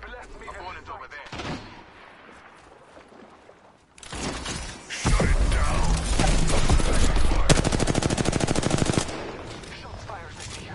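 Sustained automatic gunfire in a first-person shooter match, loud and dense with rapid rattling bursts, starting after quieter game ambience and running several seconds before easing off.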